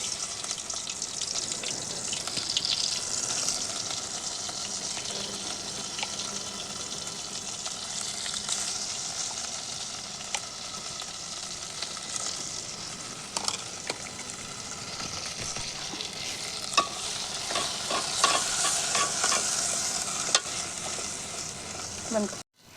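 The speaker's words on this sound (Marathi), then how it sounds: "आता आपण मसाला छान परतून घेतला" Masala paste of garlic, ginger, tomato, onion, coconut and a little peanut flour sizzles and fries steadily in hot oil, with scraping stirs and occasional clinks of a spoon against the pan, close and continuous.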